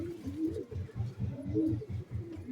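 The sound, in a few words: pigeons cooing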